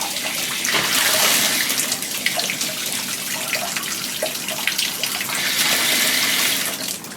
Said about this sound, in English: That's going to release the water in the house